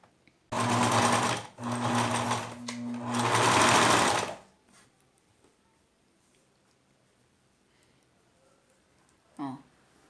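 A sewing machine stitches cotton cord onto a decorative cushion, running loud in three close bursts over about four seconds, then stops, leaving quiet handling and a brief faint noise near the end.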